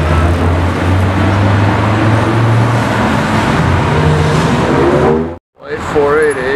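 A first-generation yellow Dodge Viper SRT10 rumbles past on the road, a loud, low engine drone with traffic noise that cuts out abruptly near the end, followed by a brief tonal sweep.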